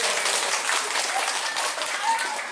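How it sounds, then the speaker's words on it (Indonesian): Audience applause for the men at an Islamic sermon gathering in Tegalurung, a dense, steady wash of many hands clapping that fills the whole stretch without pause. "Tepuk tangan kanggo wong lanang."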